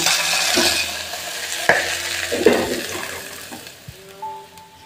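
Fried butterfly-cut okra lifted out of a pan, a fading sizzle with a few scraping and tapping strokes, close by, ending in quieter clinks.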